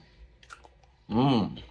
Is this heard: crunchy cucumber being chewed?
yes